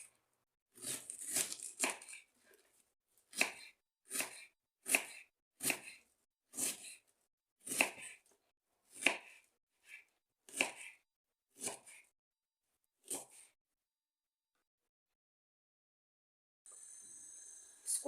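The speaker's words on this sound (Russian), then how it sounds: "лук я перерезала пополам и затем нарезаю на вот такие вот небольшие четверть кольца" A knife chops an onion steadily on a cutting board, about a dozen crisp, evenly spaced strokes with short pauses, then a faint rustle at the end.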